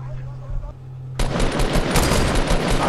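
Gunfire in a Fortnite match erupts suddenly and loudly after a short quiet moment, a dense, continuous barrage filling the rest of the moment.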